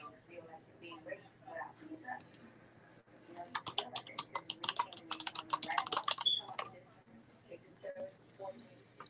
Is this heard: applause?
no